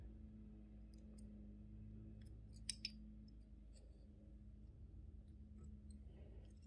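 Two quick, faint scissor snips cutting fly-tying material while tying a size 10 adult golden stonefly, set against a steady low room hum.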